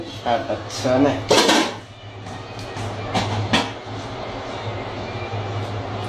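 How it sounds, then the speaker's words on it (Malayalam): Neyyappam batter is mixed by hand in a bowl in a gulf-style kitchen, with clattering utensil and bowl knocks early on, then softer scraping under a steady background hum, while someone talks over it. "അതിനുവേണ്ട കൂട്ടാണ് നൗഷാദ് തയ്യാറാക്കിക്കൊണ്ടിരിക്കുന്നത്"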